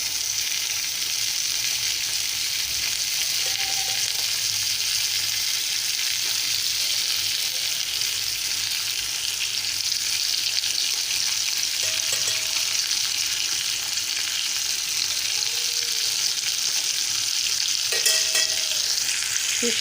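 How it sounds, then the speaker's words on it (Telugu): Fish frying in oil, with oil spooned over the pieces as they cook, gives a steady, close sizzle that runs without a break the whole time, with faint utensil clicks now and then. "ఫిష్ ఇలా వేయించుకోవాలండి."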